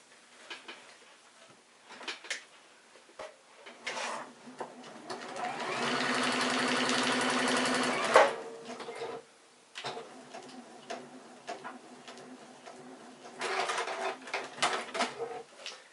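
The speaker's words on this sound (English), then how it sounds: "at the end it'll do the lock stitch, cut the thread, and then raise the presser foot" A Juki DX7 sewing machine runs close by in short bursts, with one longer steady run of stitching that ends in a sharp click of the lock stitch and thread cut, followed by more brief runs.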